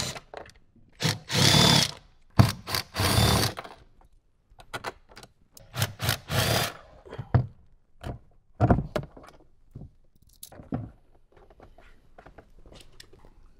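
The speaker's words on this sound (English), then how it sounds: "There's four bolts, 10 millimeter bolts, of course. So let's go ahead and get these removed and get the tray out." Ten millimeter bolts being removed from the storage tray in a 2018-2023 Jeep JL Wrangler: bursts of ratcheting and tool clatter come in irregular clusters, loud and close, with quieter clicks and knocks between them.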